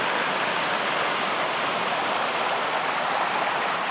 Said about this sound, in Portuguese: Pedra e essas cachoeiras aí, ó.